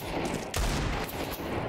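Counter-Strike 2 gunfire in a dense, loud burst of rapid shots with a heavy thump near the middle, continuous and close throughout.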